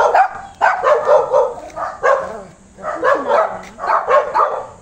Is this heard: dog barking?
yes